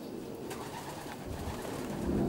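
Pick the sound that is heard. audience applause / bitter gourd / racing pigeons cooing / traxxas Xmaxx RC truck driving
racing pigeons cooing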